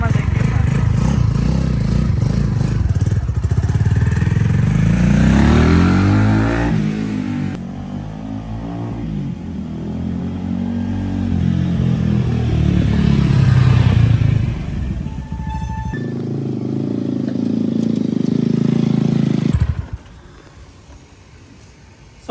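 A Zongshen 250cc single-cylinder motorcycle engine idles and revs repeatedly up close, loud throttle blips rising and falling, then cuts off near the end; no speech.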